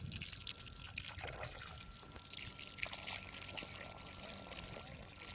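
Water pours steadily from the tap of a filter system set up beside a pipe, a continuous trickling splash that stays close and moderately loud with no talk over it.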